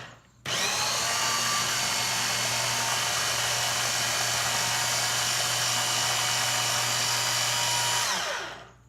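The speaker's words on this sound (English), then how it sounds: "This is my Ninja. I love my Ninja. All you do, just press it down." A Ninja blender motor kicks on abruptly and runs at a loud, steady high-pitched whir for about eight seconds before cutting off, with no voices over it.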